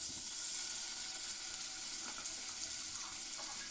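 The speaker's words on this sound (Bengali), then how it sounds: "এর মধ্যে সামান্য একটু তেল দেব, বেশি না, অল্প দিলাম, 1 চামচ মতন। আমি একটু মশলাটা ভেজে নেব।" Spices sizzle in about a spoonful of oil in a frying pan, a steady close hiss with faint crackles and no voices.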